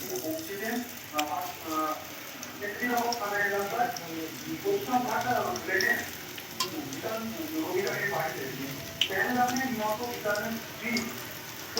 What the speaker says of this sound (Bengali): ভেন্ডিগুলোকে ভালো করে উল্টিয়ে পাল্টিয়ে ভেজে নেব